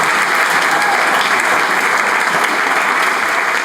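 Sustained, even applause from a forum audience greets a group of high school students, a thick continuous wash of many hands clapping at constant loudness, with no voices over it.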